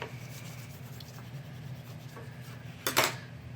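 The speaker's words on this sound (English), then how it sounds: "Okay, give it a good rub." Paper card edge being rubbed down to stick it while assembling an Easter slider pop-up card, a quiet close scratchy rubbing that ends in a brief, louder swipe.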